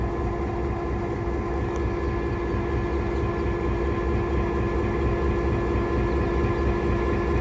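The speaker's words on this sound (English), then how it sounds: "the locomotive will go past our train on track number 2 and then do a switch" A locomotive rolls past a stationary train on an adjacent track before a switch move, giving a steady, continuous diesel engine drone with rail rumble at close range, unbroken and without talk.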